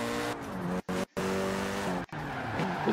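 A Golf R in the Forza Horizon 4 racing game revs hard, its engine tone climbing and dropping through quick gear shifts with brief cuts and tyre squeal, loud and close.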